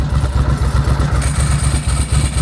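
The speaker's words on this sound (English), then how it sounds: "It's a dry clutch. It's designed to rattle" A motorcycle with a dry clutch idles nearby, its loud low engine pulsing in a fast, even rhythm with a rattling clatter riding on each beat.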